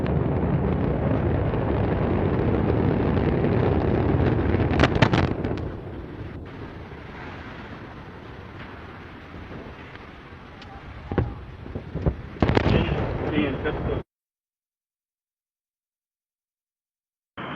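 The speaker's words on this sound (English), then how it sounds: "we have liftoff of Antares, the Orb 3 mission" Antares rocket lifting off on the Orb 3 mission carrying a Cygnus cargo craft, a loud continuous roar with sharp bursts at about 5 and 12 seconds, fading quieter in between and cutting to silence near the end.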